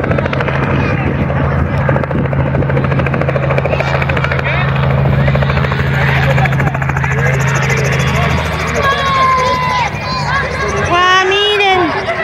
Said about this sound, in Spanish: Ahora va a descender el helicóptero para que puedan pasar a recoger los huevitos.